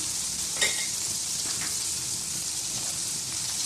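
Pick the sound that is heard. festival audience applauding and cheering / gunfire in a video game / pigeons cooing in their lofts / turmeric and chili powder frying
turmeric and chili powder frying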